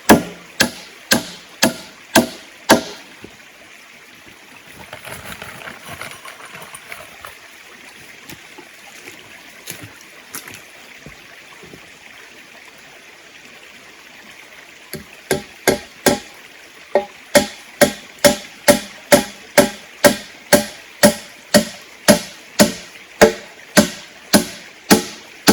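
A hammer in the Hilltop Hollow video game strikes in steady rhythmic blows, about two per second, then pauses for several seconds over a quiet trickling ambience before the blows resume.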